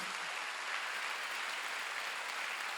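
A church congregation at a Wednesday worship service claps together in a steady, even wash of many hands, heard fairly faint and distant throughout with no voices over it.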